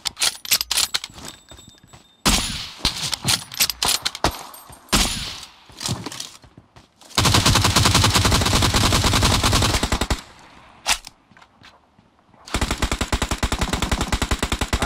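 Gunfire in the mobile battle-royale game PUBG Mobile: sharp single shots and long rapid automatic bursts, with loud sustained volleys separated by short quiet gaps.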